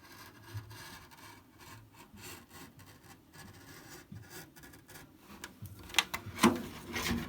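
A cutter knife scores along a Lexan RC car body in short, dry scraping strokes, quiet and close, with a few louder rasping passes near the end.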